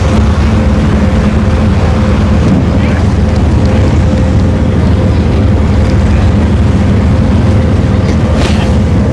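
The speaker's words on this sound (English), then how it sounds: "Hold on, let me brace for the wind. Can you guys hear the wind?" Strong, cold wind at an outdoor drag racing track at Orlando Speed World, roaring continuously and loudly as heavy buffeting against the microphone with no letup.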